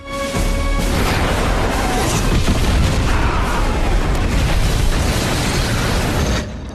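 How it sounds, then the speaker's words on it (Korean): Artillery shelling in a submarine war film, a dense, loud roar of blasts and rumbling debris that swells in almost at once and stays heavy and continuous before cutting out sharply. "이어지는 포격"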